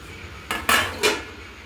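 A metal lid knocks and clatters onto a cooking pot of shukto in three quick, close clanks over a quiet kitchen background.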